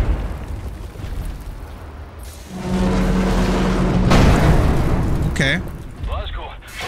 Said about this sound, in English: those cannons are blasting us out of the sky